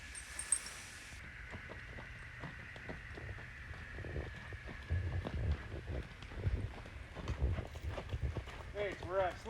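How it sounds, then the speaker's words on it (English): Horse hooves clip-clopping at a slow trot, a steady rhythm of close, moderate thuds that grow louder partway through, with people talking over them. "we're at a slow trot"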